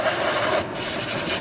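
A small drill bit bores into wood, giving a steady close rasping grind that dips briefly partway through before resuming.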